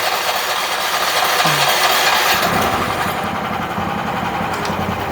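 A small China-made mini excavator runs cold, its engine a loud, steady drone close by that strains and shifts in pitch under hydraulic load midway, with no talking.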